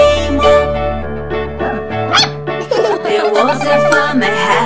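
Dog barks and yips, loud and close, come in short bursts over a steady musical backing in a children's nursery rhyme, with singing mixed in.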